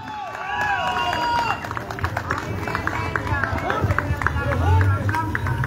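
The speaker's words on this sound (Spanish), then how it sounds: "un aplauso fuerte para recibir a ella" A crowd at a night concert in Lontué applauds and cheers as a female singer is welcomed onto the stage, steady clapping mixed with crowd chatter and whoops, with some rumble underneath.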